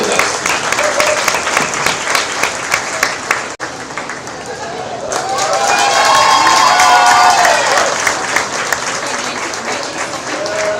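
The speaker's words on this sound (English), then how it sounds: "Let's give them a big round of applause" Spectators at a 2024 PCLA junior sheep showmanship class break into a loud, sustained round of applause with some cheering, steady and dense through the clip while voices carry over the crowd.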